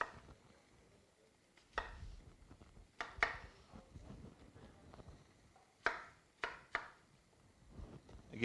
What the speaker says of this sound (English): we're just rough chopping it because we're going to blend it